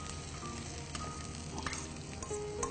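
Onions, 150 grams with green chilies, sizzle in a hot pan for a gravy, a steady close crackle with occasional stirring clinks and scrapes, no voices over it.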